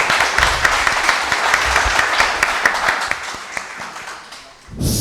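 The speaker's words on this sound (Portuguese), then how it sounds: "eu gostaria de puxar uma salva de palmas para elas aqui" A room claps loudly and continuously for several seconds at a conservation project discussion, a dense patter with a few sharper individual claps, fading briefly near the end before a burst of louder noise.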